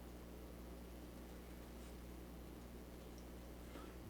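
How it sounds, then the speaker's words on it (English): A Positive Grid Reactor 50 practice amp hisses with its noise gate switched off: a faint, steady, even wash of noise with a low hum underneath, unbroken for the whole stretch and with no playing or talk. "so you can hear that hiss"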